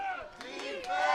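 Crowd noise at a Thursday night high school football game, San Tan Charter at Scottsdale Christian Academy, a broad steady murmur of fans in the stands heard near a crowd mic, with a voice talking over it.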